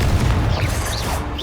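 A Confringo blasting spell exploding in Hogwarts Legacy, a loud, dense, low booming burst that fills the whole short moment without a break.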